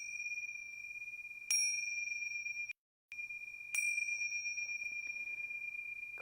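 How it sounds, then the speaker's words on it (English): A meditation bell is struck twice before a brief silence, each ring a clear ding with a long, steady, sustained tone fading slowly in a quiet room; no voices. "3 bells to start."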